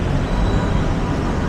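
A light rail (LRT) train gives off a steady, loud rumble with broadband rolling noise that stays constant throughout and has no clear breaks.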